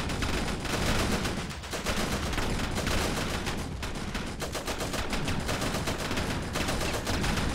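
Rapid bursts of World War I gunfire in Ravenfield, automatic weapons rattling almost continuously, loud and close, with heavy low booms mixed in.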